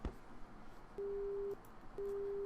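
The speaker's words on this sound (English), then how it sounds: "The phone is repeating a boring beeping sound." A telephone busy signal beeps in a steady tone, two long sustained pulses separated by a short gap, moderately loud over faint room noise with no talking.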